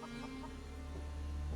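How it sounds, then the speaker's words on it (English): A flock of chickens clucks softly in a farm building, faint scattered clucks over a steady hum of background noise, no voices speaking. "Got a whole bunch of chickens."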